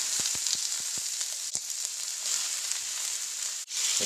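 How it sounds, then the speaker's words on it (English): Chopped vegetables and sausage sauté in a small pan, giving an even, hissing sizzle. A quick run of rhythmic taps opens it, and a couple of brief clatters interrupt the frying later on. "we're going to go ahead and saute the veggies and the sausage"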